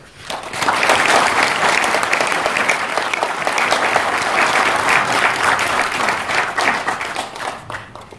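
Sustained audience applause fills a memorial ceremony hall in Seoul, steady dense clapping from many hands for about eight seconds before tapering slightly at the end.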